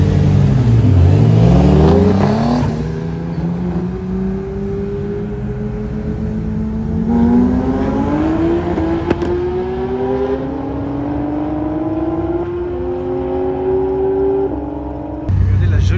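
A Nissan Z and a Porsche GT3 launching in a Dubai drag race: engines roar and climb steeply in pitch through several gear shifts, loud and close, then cut off, with a voice speaking over the noise.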